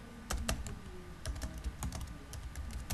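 Rapid keystrokes on a computer keyboard while a label is typed into orthopedic planning software, irregular clicks in quick bursts, close and clear with a low background hum and no talk.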